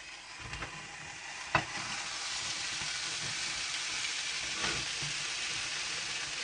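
Yakitori sizzles steadily inside a hot sandwich maker, a continuous bright frying hiss with a few sharp clicks and pops of the metal press, close and fairly loud throughout.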